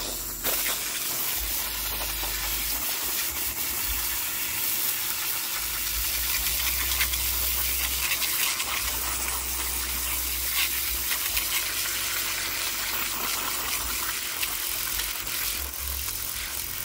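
Water from a hose rinsing a dirty Type B above ground pool filter cartridge, a constant loud hissing gush running unbroken throughout.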